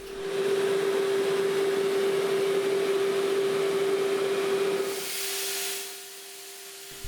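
An angle grinder carves a Les Paul style wooden guitar top, its motor holding a loud, steady whine with grinding hiss before the tool lifts off and the pitch winds down near the end.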